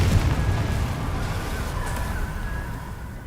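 A Confringo spell blast in the video game Hogwarts Legacy: a loud, rumbling explosion that bursts at the start and then rolls and slowly fades over a few seconds, with a faint tonal shimmer on top.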